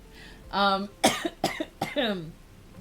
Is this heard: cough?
yes